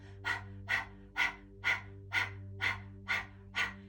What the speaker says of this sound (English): try sticking your tongue out and panting like a dog with the focus on the exhale